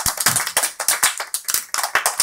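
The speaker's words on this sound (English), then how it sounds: "Can you clap for Guru Shivani?" Children clapping for a classmate in a classroom, a rhythmic run of distinct sharp claps, close and fairly loud, uneven in timing and mostly alone without talk.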